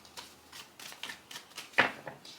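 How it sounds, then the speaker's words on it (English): Tarot cards riffle-shuffled by hand in a series of quick, close papery bursts, with a sharper snap near the end; no talking. "Let me do a quick shuffle because these cards are being weird."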